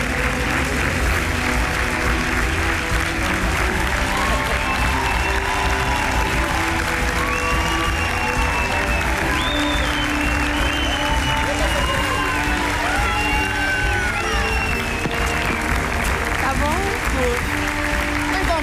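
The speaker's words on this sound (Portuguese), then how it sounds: "E vamos receber com uma grande, grande salva de palmas o nosso chef da culinária" A studio audience at the Portuguese reality show Secret Story 3 applauds steadily for chef Hélio, a loud, dense wash of clapping and crowd noise lasting throughout, mixed with voices and tonal background sound.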